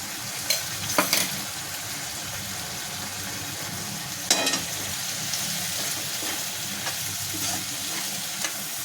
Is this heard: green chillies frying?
yes